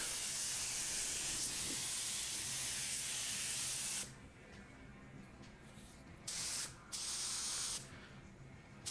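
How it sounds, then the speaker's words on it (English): An LPH 400 spray gun lays down AmTech clear coat in a loud, steady hiss for about four seconds, then sprays in shorter bursts with brief pauses between them. "this is the LPH 400, of course. I give it 2 coats of the AmTech clear."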